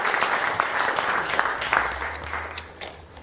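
A large audience applauds at a presidential candidate event for the People Power Party, steady clapping filling the hall for several seconds with a faint low rumble underneath.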